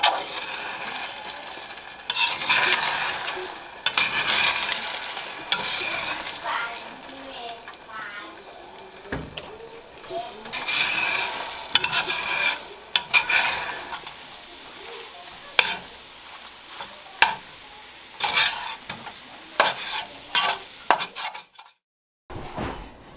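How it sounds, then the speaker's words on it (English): Cheesy scrambled eggs cooking in a pan at home, with soft sizzling, scraping and stirring strokes, and irregular clatter of utensils against the pan throughout. "Okay, the last thing I gotta do is cook up these eggs"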